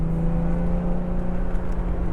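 Car engine pulling hard in second gear up a hill on an autocross section at G2 Motorsports Park, a steady loud drone heard up close throughout the short stretch with no talking.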